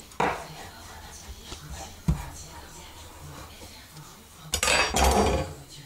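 A round brick pastry sheet cut in half on a kitchen counter, heard as a few sharp taps and a scraping cut at close range, with faint murmured talk and clatter of utensils.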